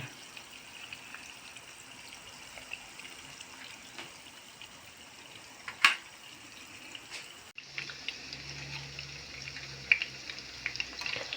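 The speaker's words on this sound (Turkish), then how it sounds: "Köftelerim nar gibi kızarıyor" Meatballs frying steadily in a hot pan, with a constant sizzle and crackle and occasional faint clinks, no voices.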